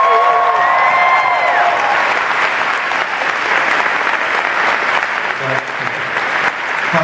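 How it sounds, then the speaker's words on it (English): Sustained audience applause at a documentary film festival screening, dense and steady clapping from a large crowd filling the room throughout, with a few faint voices and cheers mixed in. "Let's hear it for Holly, everybody"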